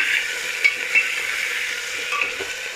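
Salted potatoes frying in a pan give a steady close sizzle, with a few soft scrapes of a spoon stirring them; no one speaks.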